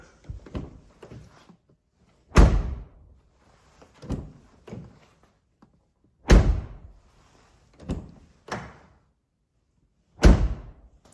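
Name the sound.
Ford Explorer car door closing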